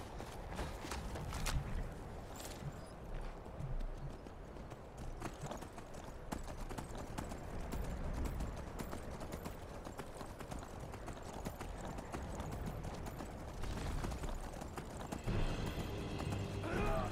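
Horse hooves clip-clopping in the video game Skyrim, a steady run of quiet, rhythmic hoofbeats at low level, with brief in-game sounds along the way.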